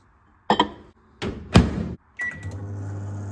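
Microwave oven heating a glass of water: door thunks and button clicks come first, then the steady low hum of the running oven, close and clear with no talk.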